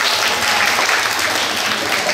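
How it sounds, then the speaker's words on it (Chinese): Steady applause from an audience at a teacher training workshop on public speaking, a dense unbroken wash of clapping that carries at even loudness throughout. "哇，掌声鼓励一下"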